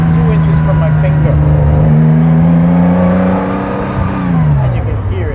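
A Porsche 914-6 rally race car's six-cylinder engine revs loudly right up close, its pitch rising and holding steady before dropping away, a harsh continuous roar from start to finish.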